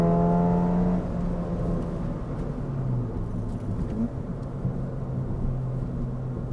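A Ford Fiesta ST engine accelerates on the throttle, a steady loud whirring drone heard from inside the car as the revs climb, with a rising tone early on.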